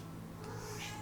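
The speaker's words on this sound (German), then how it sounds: "Hallo Katze, das ist meine Katze." A house cat gives a single short meow indoors, quiet and close, over a low steady background hum.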